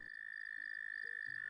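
A toad in a bucket gives a continuous, high, steady trilling croak, close and clear, with a few faint low knocks underneath.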